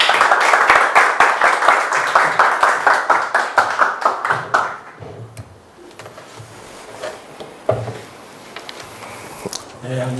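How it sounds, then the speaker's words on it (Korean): Audience in a church lecture hall breaks into steady rhythmic clapping to welcome a pastor, the applause strong for about five seconds before fading into scattered room noise and a few faint voices. "이 시간 우리 목사님 박수로 환영하도록 하겠습니다."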